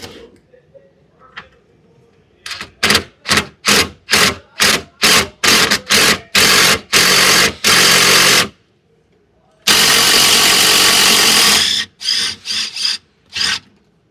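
A 2013 Hyundai Genesis sedan parking brake module motor spins close by in a quick series of short grinding, whirring bursts, then one longer sustained run and a few final bursts.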